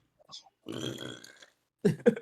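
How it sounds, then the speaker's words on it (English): A short, throaty burp rumbles out close to the mic, with a faint small sound just before it and a brief burst of talk following. "I just burped for Captain America"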